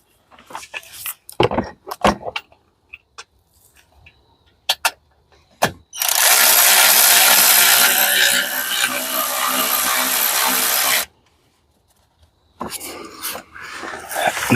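Power tool running steadily for about five seconds while tightening a bolt on a 2005 Kia Spectra during an oil and transmission fluid change, framed by scattered clicks and clunks of handling parts.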